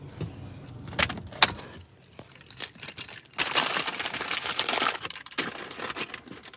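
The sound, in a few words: keys jangling while getting out of a car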